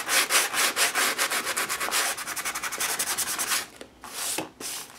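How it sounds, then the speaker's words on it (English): Sandpaper rubbed rapidly back and forth over an acrylic-painted paper page, a close rhythmic scratchy rasp in quick strokes that slows and stops near the end. "The sandpaper allows it to have a bit of a bite again,"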